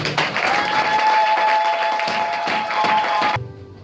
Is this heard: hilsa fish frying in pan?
no